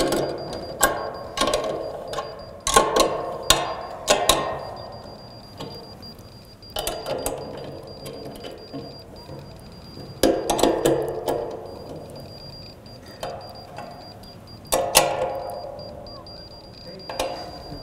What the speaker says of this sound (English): I'm ready to tighten up the elevation screws so to lock that into position